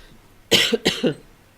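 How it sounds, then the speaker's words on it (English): A man coughing in a couple of short, harsh bursts close to the microphone, heard alone without speech. "I'm going to be coughing all night long"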